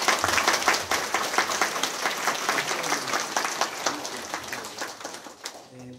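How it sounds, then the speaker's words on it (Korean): A church congregation at a Sunday worship service applauding to welcome a new youth minister, a dense, steady burst of many hands clapping that fills the room and gradually fades out at the end. "박수 한번 할까요?"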